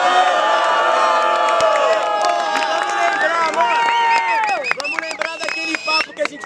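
Crowd at a rap battle shouting and cheering, a loud dense mass of voices with whoops and rising yells that grows more scattered and spiky toward the end.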